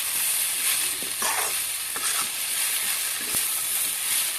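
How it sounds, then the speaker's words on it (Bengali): Cauliflower stalks fry in a pan with salt, giving a steady close-up sizzle and hiss with small crackles and pops throughout, no voices. "নুনটা দিয়ে ভালো করে লাল করে আরও কিছুক্ষণ ভাজি দেবো"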